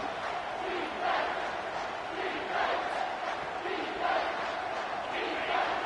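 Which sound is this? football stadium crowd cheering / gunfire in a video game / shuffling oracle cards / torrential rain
football stadium crowd cheering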